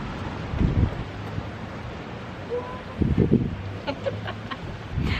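Gusty wind from a winter storm buffeting a backyard orchard, rustling and rumbling bursts against the microphone, rising and falling in a few strong gusts.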